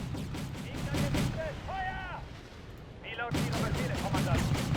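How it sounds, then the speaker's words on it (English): Anti-aircraft cannon fire from German Flak Panzers in the Wargame: European Escalation video game, a loud burst of rapid booming shots, then a lull with whistling tones, then more heavy firing. "Alright, Flak Panzer are clearing out those anti-aircraft."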